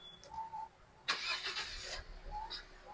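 Push-button start of a Hyundai Creta engine with the clutch pressed: a sudden broadband burst as the starter cranks and the engine catches, settling into a steady running hum, heard close with no talk.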